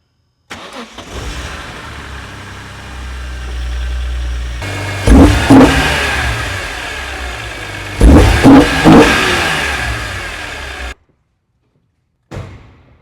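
A BMW E46 M3 fitted with an Eventuri intake fires up and settles into a loud idle, then gets two sharp revs around the middle. The engine is close and dominant, and it cuts off abruptly before a brief final noise.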